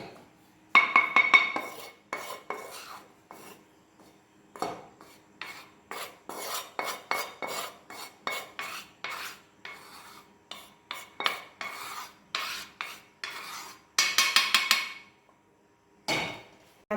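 A spoon or spatula scrapes cooked chilli mixture from a pan into another vessel in repeated short rasping strokes with metallic clinks, close and loud, with brief pauses between scoops.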